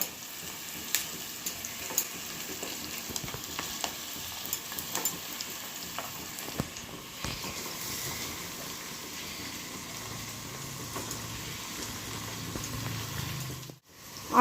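Chicken pieces frying with onions in hot oil make a steady, crackling sizzle throughout, with scattered pops and occasional stirring scrapes, ending in a brief louder clatter.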